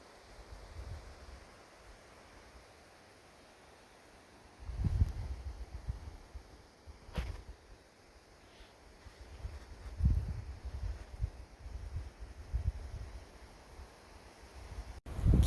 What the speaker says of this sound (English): Besides the wind, you could hear Clovis taking a drink